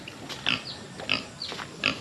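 Piglets in a farm pen give repeated short grunts and squeals, three louder bursts spaced about half a second apart over a steady low background, with no talking.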